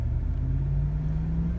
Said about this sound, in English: I'm gonna drive it, let's see it shift through a couple gears